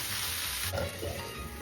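Okra and potato bhaji sizzles steadily in a pan of hot oil, a constant crackling hiss with a brief stirring scrape partway through.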